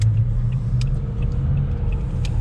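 Car cruising along a paved road in Yakutia heard from inside the cabin: steady low engine and tyre rumble, continuous and close, with faint clicks and no talking.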